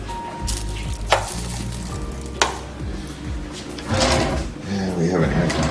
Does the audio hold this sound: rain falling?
no